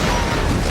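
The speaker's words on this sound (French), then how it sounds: "Une explosion soudaine perturba le plan de la police." A sudden explosion in a S.W.A.T. film scene: a loud, sustained broadband roar of blast and debris that fills the whole moment without any speech.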